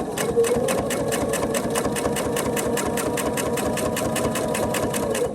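A sewing machine stitches quilt binding, with backstitching to lock the seam, a steady fast mechanical whir with rapid even ticking from the needle that runs close and loud throughout.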